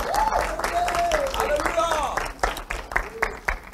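A church congregation applauds and cheers in praise, the clapping sharper and more scattered toward the end, with singing or shouting voices over it.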